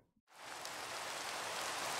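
Steady, dense rain falls in the Minecraft modpack SevTech Ages, a continuous hiss of drops on surfaces that starts abruptly after a brief silence and holds even throughout.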